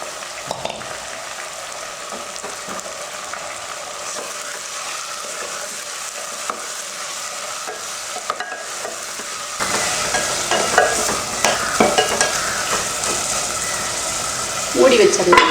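Chicken seasoned with pepper, salt and lemon hits a hot pan, a steady frying hiss jumping louder and brighter partway through as the pieces are added and stirred, with close scraping and crackling.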